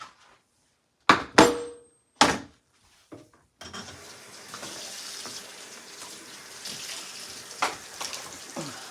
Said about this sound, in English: I'm rinsing the parsley